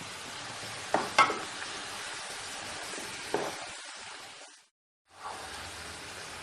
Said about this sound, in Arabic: حتى ورا ما ينحمس عندي الشجر اضيف العدس واحمسهم كلهم سويه